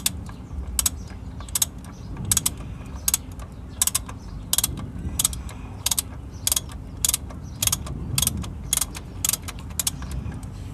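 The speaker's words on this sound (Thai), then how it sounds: "ตอนนี้ ช่างทองกำลังถอดหน้าคาชุดเก่าออกนะคะ ก็มีบล็อกนะคะ แล้วก็ไขควงนะ" Socket wrench ratcheting while the AC compressor clutch is removed from a Honda Freed: repeated quick clicking bursts in an irregular rhythm over a low background rumble, close and moderately loud.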